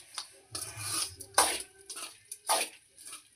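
A spoon scrapes and clinks in a pan while stirring broad beans curry, in several short bursts of metallic scraping and soft wet squishing, close up and fairly quiet, with no talk.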